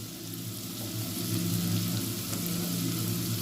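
Onions fry in a pan with a steady, close sizzle and an even crackling hiss that holds for the whole stretch, over a faint low hum from the stove.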